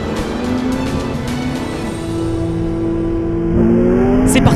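Race cars in the ROSCAR 103 series pulling away at the start of the second race at Val de Vienne circuit, a loud, steady engine drone that climbs in pitch and swells louder near the end.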